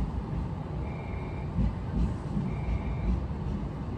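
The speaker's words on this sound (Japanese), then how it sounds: "なお列車2両編成での到着です" A two-car electric 113-series 5300 local train on the San'in Line pulls into Fukuchiyama station platform, a steady rumble of wheels and motors, with a station announcement faintly audible in the background.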